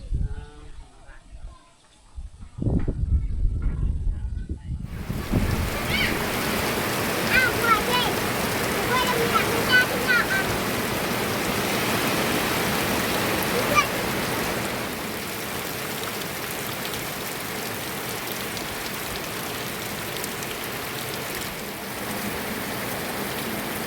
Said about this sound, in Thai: โอ้มืดฝนมาแล้วท่านผู้ชม